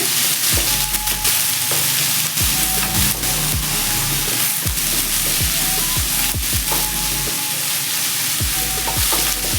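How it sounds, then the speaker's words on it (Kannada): Onions fry lightly in a pan, not deep-fried, producing a loud, close sizzle with repeated rhythmic scraping strokes of a spatula across the pan. "ಸ್ವಲ್ಪ ಫ್ರೈ ಮಾಡ್ಕೋಬೇಕು. ಡೀಪ್ ಫ್ರೈ ಏನು ಮಾಡೋದೇನು ಬೇಕಿಲ್ಲ."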